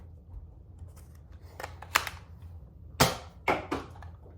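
A Nerf Elite 2.0 Prospect QS 4 blaster fires darts loaded with a mix of Elite 2.0 and regular Elite darts, giving a few sharp close snaps and whooshes, the loudest three near the end.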